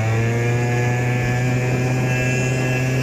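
Tuned Piaggio Sfera RST 50 scooter straining up a steep hill of about 19 percent, a continuous loud, buzzy two-stroke drone holding a steady pitch at high revs, close by and alone.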